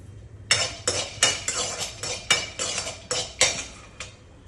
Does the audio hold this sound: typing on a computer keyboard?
no